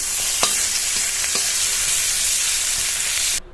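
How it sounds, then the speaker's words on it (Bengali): Bitter gourd (karela) frying in oil in a kadai gives a loud, steady, close sizzle with a couple of faint stirring clicks, then cuts off abruptly at the end. "বাকিগুলো দিয়ে একইভাবে ভেজে নেব।"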